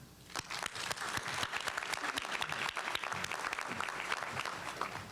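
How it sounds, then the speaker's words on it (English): An audience claps for graduates' families at a ceremony, a dense, sustained round of applause from a crowd lasting several seconds, steady and fairly close, with no talking over it. "I'd like to give you an applause as well"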